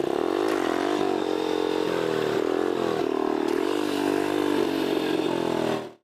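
A motorcycle engine revs loud and close, a sustained throaty drone rising and falling in pitch as the rider pulls a wheelie, cutting off abruptly at the end.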